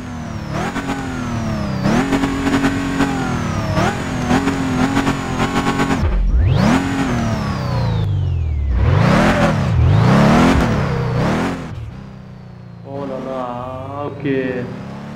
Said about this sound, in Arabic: على ما اعتقد صوت التيربو